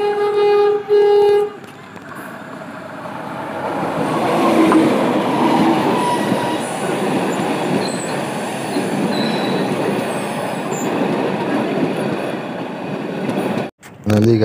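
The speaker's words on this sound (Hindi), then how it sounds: "देखिए अब ट्रेन आ रही है, ट्रेन पहुंच चुकी है।" A train pulls into a station, its rumbling wheels and squealing brakes building loud and close and holding steady for most of the stretch, with a person talking over it at the start.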